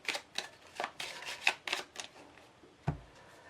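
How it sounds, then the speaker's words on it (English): Playing cards are shuffled by hand for a card magic trick, making a quick series of soft riffling bursts close up and fairly quiet, ending with a single muffled tap. "they will then shuffle these cards"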